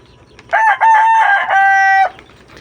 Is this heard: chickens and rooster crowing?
yes